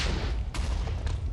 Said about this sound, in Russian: Давай крафтить фейерверки.